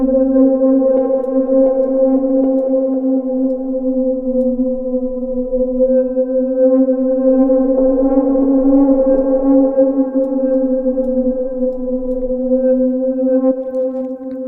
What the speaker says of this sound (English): So now our sound, which was wobbly and had some weird clicks here and there, has become a sort of unsettling, unstable pad